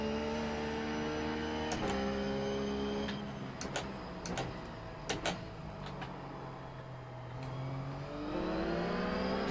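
Race car in the iRacing sim at Circuit Zolder, its engine wailing through repeated upshifts and downshifts, rising and falling pitch sweeps with sharp clicks and ticks between gear changes, heard alone without talk.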